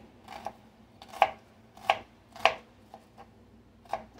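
A knife chops a yellow onion on a cutting board in about seven distinct, unevenly spaced thuds, close and crisp against a quiet room.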